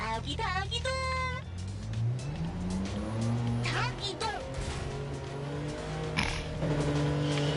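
A car engine revs and shifts in the video game Neverness To Everness, with tires squealing in places, while voices chatter over the driving.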